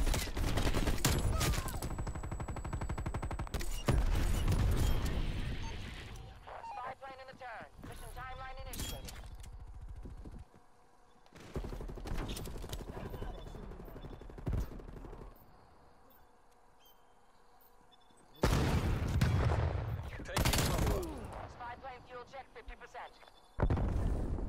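Stoner 63 light machine gun firing in Call of Duty Cold War, rapid bursts of automatic gunfire in separate loud stretches with quieter gaps, mixed with game effects and a player talking.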